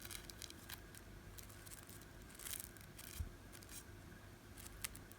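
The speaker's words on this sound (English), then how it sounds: "just cut your little petal out and cut the tip off" Scissors snip through folded paper to cut small petal shapes, giving several quick, soft, irregular cuts that sound close but quiet against a faint background hiss.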